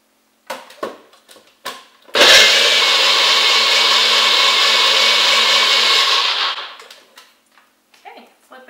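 A blender whirs loudly and steadily for about four seconds, mixing a pumpkin spice smoothie, with brief clatter and handling noises before and after the run.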